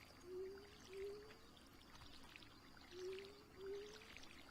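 A watering can pours water onto crops in Stardew Valley: four short, faint sprinkling pours in two evenly spaced pairs, over a low steady background.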